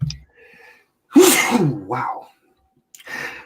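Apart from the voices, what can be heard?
person sneezing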